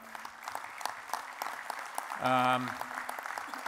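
An audience at a community action convention applauding a speech, a steady wash of clapping from a large hall throughout, with a brief tonal voice rising over it midway.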